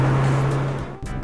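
A Lotus Elise engine hums steadily while driving, a close, loud tonal drone inside the lightweight sports car, briefly dipping near the end of the short burst.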